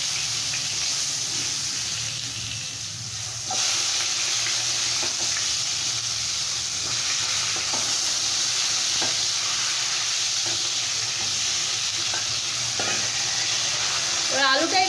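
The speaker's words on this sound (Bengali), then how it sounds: "এবার ওই তেলের মধ্যে দিয়ে দেব লম্বা করে কাটা আলু।" Long-cut potatoes fry in oil in a pan, a steady broad sizzle that stays loud throughout, with occasional stirring clicks and scrapes and a brief burst of crackle near the end.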